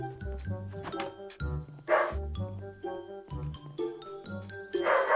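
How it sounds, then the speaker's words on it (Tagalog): Repeated cartoonish dog barks from a video game in a playful rhythm, mixed with bright game-like musical tones and chimes. "Ingay ng aso."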